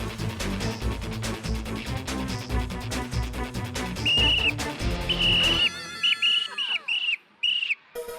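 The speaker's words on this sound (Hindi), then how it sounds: "मेरे गाल दुखे सीटी बजा बजा के।" A person whistling in a comic maze scene, several short shrill bursts and a sustained tone that bends downward, following a stretch of busy music, with no talking over it.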